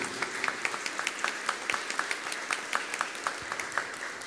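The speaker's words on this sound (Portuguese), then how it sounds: "Se é católico pode aplaudir, fica à vontade" A church congregation applauding together during a Catholic Mass, steady dense clapping for several seconds at close, moderate loudness with no talking over it.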